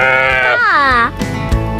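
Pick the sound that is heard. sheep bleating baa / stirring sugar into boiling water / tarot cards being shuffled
sheep bleating baa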